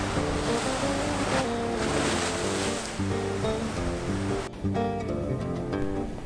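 Rough seas in the Bay of Biscay churn below the aft deck of a P&O cruise ship: a steady, loud roar of crashing waves with gusting wind buffeting the microphone and a low rumble of the ship throughout.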